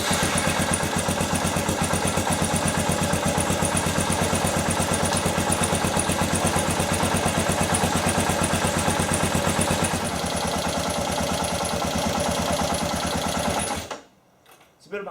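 A Kawasaki KLR 650 motorcycle engine idles to warm up, a steady close-up thumping chug with a metallic clatter that runs continuously before cutting off abruptly near the end.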